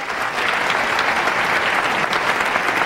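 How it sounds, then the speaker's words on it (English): A comedy club audience applauding, dense sustained clapping from a large crowd, loud and even throughout with no talking. "Applaud if you have kids. Applaud real big."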